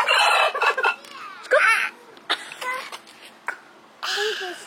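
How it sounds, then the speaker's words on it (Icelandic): Turkey gobbling and clucking in short, close, uneven bursts with quiet gaps between calls. "Hvað segir kalkúninn?"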